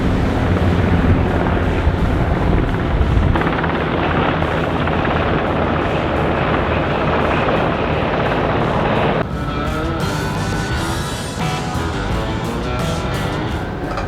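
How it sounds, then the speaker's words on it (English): Helicopters flying close by over the water, heard from a trawler, a loud continuous rotor and engine roar that fills the scene with steady broadband noise and shifts in tone partway through. "There's these helicopters right here that are about to, I don't know, they look like they're something kind of official."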